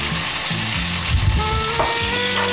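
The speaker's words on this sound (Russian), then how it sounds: "На хорошо разогретую сковородку выкладываем нарезанные томаты" Chopped tomatoes and garlic hit a well-heated frying pan, giving a loud, continuous sizzle and hiss with bubbling crackle, close and steady throughout.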